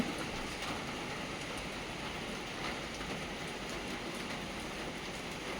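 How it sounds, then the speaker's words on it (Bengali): Steady morning rain falls outdoors, a dense, even hiss of drops with no breaks, moderately loud and alone without voices. "আজকে সকাল সকাল বৃষ্টি হচ্ছে বৃষ্টিটাই দেখাচ্ছি তোমাদেরকে সবার আগে সকাল সকাল কিরকম বৃষ্টিটা হচ্ছে"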